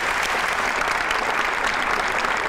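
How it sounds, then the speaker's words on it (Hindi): A studio audience claps for Hasan on a comedy talk show, a dense, steady burst of applause that fills the whole moment at close range. "हसन भाई के लिए बहुत ज्यादा तालियां एक दफा"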